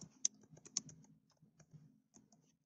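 Computer keyboard typing during a web search, a quick, irregular run of light clicks with a few sharper keystrokes, close and fairly quiet over a faint low hum, with no talking.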